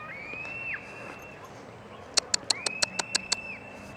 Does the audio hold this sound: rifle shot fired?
no